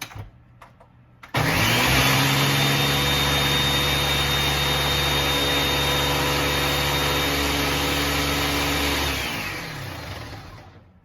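A lidded mixer churns baking ingredients with a loud, steady motor roar that runs for several seconds and then winds down, following a few brief knocks at the start.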